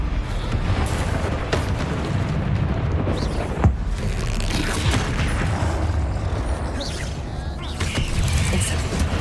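Confringo fire spell blasts in Hogwarts Legacy during a duel, a dense rumbling barrage of bursts and impacts with one sharper crack partway through, continuous and fairly loud throughout.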